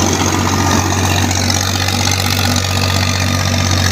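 A tractor-driven rotavator runs in a farm field, producing a loud, constant low engine drone with a steady rumbling churn throughout and no voices.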